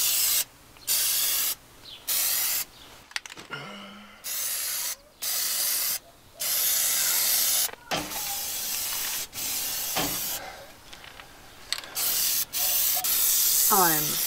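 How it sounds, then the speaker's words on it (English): Spray paint can hissing in bursts over a school bus conversion, a series of short, fairly close sprays separated by brief pauses, followed by longer continuous passes. "Okay, so now we just need to spray paint."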